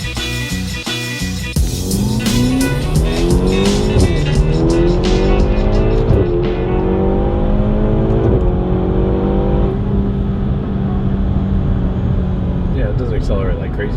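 A Ferrari GT car accelerates hard, its engine note climbing through gears with rising harmonics, loud and close, with a voice talking over it at times.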